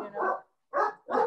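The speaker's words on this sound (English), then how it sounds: "that's my dog barking back there" A dog barks three times, a longer rough bark followed by two short sharp ones, fairly close and loud.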